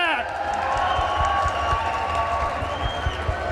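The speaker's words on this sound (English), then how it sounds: "So if you could give them a warm round of applause." A crowd claps and cheers at the gamescom award show in a large room, steady applause with scattered whoops, while a voice carries on over it.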